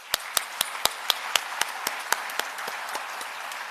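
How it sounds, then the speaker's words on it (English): Audience applause at an arbitration moot opening ceremony, a sparse run of distinct hand claps in a steady rhythm, clear and moderately close. "please give yourselves a big round of applause"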